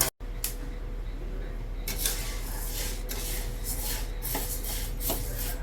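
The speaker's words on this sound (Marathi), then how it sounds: "आता यामध्ये हे मूग आहे, अख्खे मूग, हे पण भाजून घेऊया।" Whole mung beans dry-roasting in a pan, a continuous scratchy rustle of beans being stirred and scraped against the metal, close and steady, with a few sharper scrapes.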